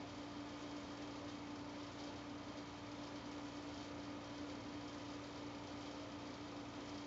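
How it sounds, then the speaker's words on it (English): An air conditioner runs in a bedroom with a steady, unbroken droning hum and a constant low tone, alone, with no voices. "That's an air conditioner."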